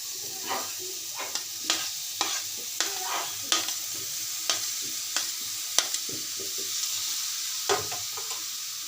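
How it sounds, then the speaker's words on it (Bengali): Tomatoes cooking in a wok with a soft sizzle, broken by repeated sharp scraping taps of stirring at irregular intervals, with no talk. "এখন আমি ওই কড়াইতে টমেটোগুলো সিদ্ধ দিয়ে দিব"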